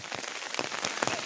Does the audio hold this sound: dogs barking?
no